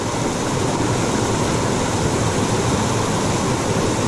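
A waterfall spilling into a pool at the outlet creek from Eagle Lake in the Desolation Wilderness, heard as a steady, loud, broadband rushing roar that never lets up, close by, with no voices.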